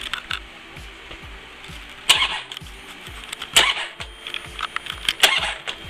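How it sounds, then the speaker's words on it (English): Starter cranking a motorcycle engine with no oil in it, repeated whirring bursts in a steady rhythm with a few louder clanks, nearby and alone without voices. "I'm gonna just crank it over a couple of times. Don't let it start, there's no oil in it"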